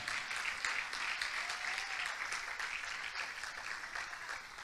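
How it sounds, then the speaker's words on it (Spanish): A church congregation applauding during a Spanish-language service, a faint, even patter of many hands clapping together, continuing steadily and distant in the room. "Dele un aplauso al Señor"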